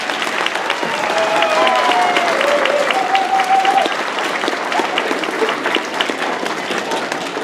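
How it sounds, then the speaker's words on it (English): An audience at a school band concert applauds the 8th grade percussion section, sustained dense clapping from a sizable crowd lasting several seconds, with a few faint whistles or cheers riding over it. "let's give one round of applause for our 8th grade percussion again"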